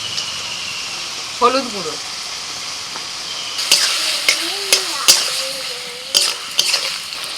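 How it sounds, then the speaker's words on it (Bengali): Chopped tomatoes fry in hot oil with a steady sizzle, while someone talks over the cooking and a spoon scrapes and taps the pan several times. "এবারে তেলের মধ্যে আমি টমেটো কুচি দিয়ে দিচ্ছি"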